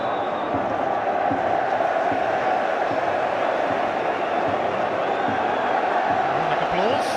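A packed stadium crowd at a Rangers v Celtic football match keeps up a loud, continuous roar with scattered clapping and chanting, heard as a dense, unbroken mass with no distinct individual voices.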